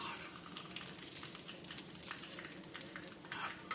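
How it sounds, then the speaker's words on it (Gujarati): Hot tempering poured over freshly steamed farali dhokla for a fasting meal, giving a steady close sizzle and crackle with a few brief louder pops, no talking. "હવે વઘારને આપણે ગરમા ગરમ ઢોકળાની ઉપર નાખી દઈએ."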